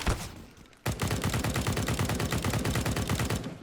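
Rapid gunfire from a shooting game, a faint tail of a burst followed by a loud, steady stream of fast repeated shots that runs on without a break.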